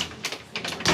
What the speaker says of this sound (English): Fuck, I need to close my door.